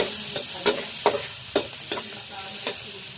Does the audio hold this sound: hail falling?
no